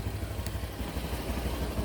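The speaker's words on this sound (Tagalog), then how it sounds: "napainit ko na nga yung aking motor" A warmed-up motorcycle idles close by, a low, steady engine rumble with a light, continuous clatter and no talk over it.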